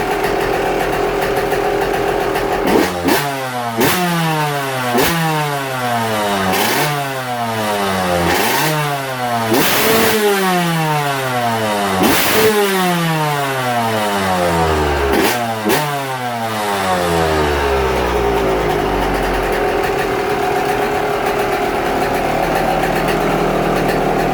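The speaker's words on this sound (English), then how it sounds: "All right, she should be fully up to temperature now. We're gonna rev her out a little bit." A Yamaha YZ125 two-stroke dirt bike, freshly rebuilt with a new piston and warmed up, revs hard in a string of about eight rising and falling blips, loud and close, then settles to a steady idle with no talking.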